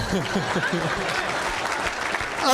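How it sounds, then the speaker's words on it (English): A live stage audience applauds with a dense, even wash of clapping from start to finish, while a voice talks over it near the beginning. "Everybody, a round of applause besides Bill."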